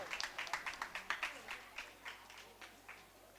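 An audience at a Bundeli Diwas cultural celebration claps for the performers: faint, rhythmic hand claps from a small group that gradually thin out and grow quieter.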